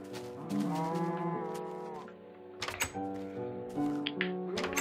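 A cow in the Minecraft video game moos several times, drawn-out low calls up close and loud, separated by brief pauses, with no speech.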